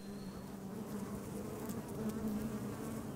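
Honeybees from a migratory beekeeping operation drone in a steady, close, continuous buzz, with no voices over the hum.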